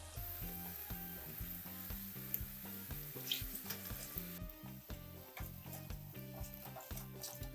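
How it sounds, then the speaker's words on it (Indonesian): Oil sizzles steadily as fish cakes fry, a continuous crackling hiss with occasional clinks of a utensil, no voices. "Goreng sisanya hingga habis"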